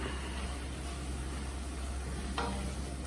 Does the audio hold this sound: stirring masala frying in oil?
yes